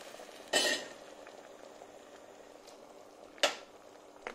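A vegetable ratatouille with zucchini, potatoes and added boiling water simmers on the stove with a faint, steady hiss, broken by two brief clattering stirs of a utensil in the pot.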